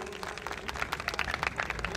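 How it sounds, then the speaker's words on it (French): Audience at a night-time grill festival in Bamako applauding, a short burst of faint, distant crowd clapping with scattered individual claps. "Je vous demande d'applaudir"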